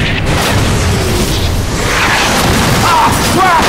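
A heavy bomb explosion in the World War II shooter Call of Duty 3, a deep booming roar rolling on for several seconds with debris noise and voices shouting underneath.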